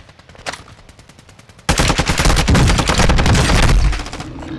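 Rapid automatic gunfire in a shooter video game: faint shots at first, then a loud, sustained, close burst lasting about two seconds before it tapers off.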